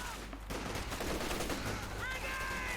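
Battle sounds from Company of Heroes 2 in a 1v1 match: close bursts of rifle and machine-gun fire crackle in quick volleys, with grenade blasts thudding among them and a faint voice underneath.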